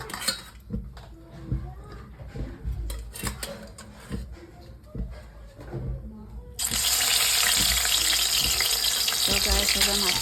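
Fish frying in a pan in a home kitchen, first with clinks of dishes and utensils, then a loud steady sizzling hiss that takes over and continues to the end.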